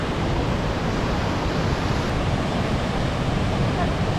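Linville Falls on the Blue Ridge Parkway, with the water slightly low, gives a steady broadband roar of falling water, constant and even from a moderate distance.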